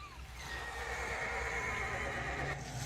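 A horse in a TV show gives a long, loud whinny that rises and wavers for about two seconds, with faint hoof clops and rumbling background noise beneath it.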